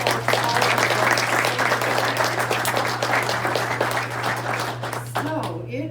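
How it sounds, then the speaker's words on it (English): An audience claps steadily at a club meeting, a dense sustained round of applause with a low steady hum underneath, fading near the end. "let's give a big round of applause to all"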